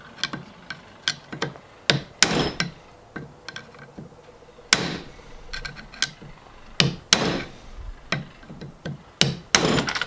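Hammer whacking the eye bushing out of a Bilstein 7100 shock for a 1997 80 Series Land Cruiser, a series of sharp metallic blows at irregular intervals, close and loud, with quieter taps between.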